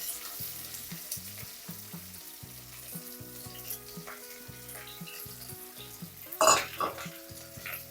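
One large sliced onion sautés in coconut oil with curry leaves, giving a soft continuous sizzle. A spoon scrapes and taps the pan now and then, with a sharper metallic clatter near the end.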